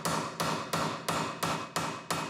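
A hammer strikes seven times in a steady, even rhythm in a prosthetics workshop, each blow sharp and close with a short ringing decay.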